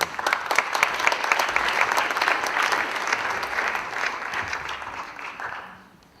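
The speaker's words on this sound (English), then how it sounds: "Give them a big round of applause." A conference crowd at a data science hackathon event claps steadily in a dense, even roar of many hands for several seconds before it fades away near the end.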